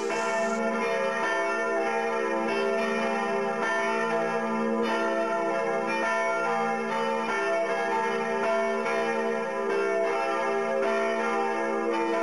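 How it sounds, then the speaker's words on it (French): Church bells ringing continuously, a rich layered peal with overlapping tones sustained throughout, loud and steady with no voices. "Les Villardaires ont la surprise d'entendre à nouveau les cloches sonner, après un an d'interruption."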